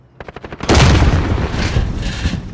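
Gunfire in Call of Duty: Modern Warfare opens with a quick burst of about six close automatic shots, then a loud blast and a sustained roaring wash of heavy fire.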